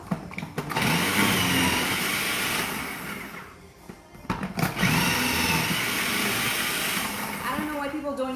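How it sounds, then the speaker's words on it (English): A food processor shreds onion with a loud, steady motor whir. Its pitch shifts as the load changes, and it pauses briefly twice, with a few clunks, before spinning up again. "I don't know why people don't use food processor."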